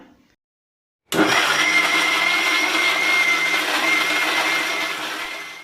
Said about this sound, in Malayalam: ഇനി ഇതെല്ലാം കൂടി മിക്സിയിലിട്ട് നന്നായി ഒന്ന് കറക്കിയെടുക്കണം